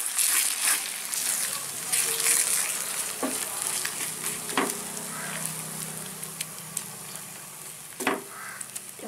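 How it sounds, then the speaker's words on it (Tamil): Thoyyal keerai greens being stirred in a pan, a close sizzle with repeated scraping and clinking strokes of a spoon, loudest early and easing toward the end, no talk. "லேசாக கிளறி விட்டுக்கலாம்"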